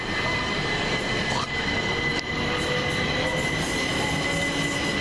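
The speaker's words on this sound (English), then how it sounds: "Next train, this one's going to Bedford from Brighton, 377514" A Class 377 electric train, unit 377514 running from Brighton to Bedford, rolls past close by with loud, continuous wheel and rail roar, squeal and clatter.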